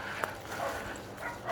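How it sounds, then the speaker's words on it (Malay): A dog barks somewhere up the forest hiking trail at Bukit Mentigi in Tanah Rata, Cameron Highlands, heard as a few faint, distant yaps against quiet outdoor background noise. "Anjing masih lagi atas tu."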